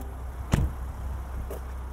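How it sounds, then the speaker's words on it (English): The hood of a 2021 Jaguar F-PACE P400 R-Dynamic S pops open with a single sharp, close thunk, followed a second later by a faint second click. "let's pop the hood and take a look underneath"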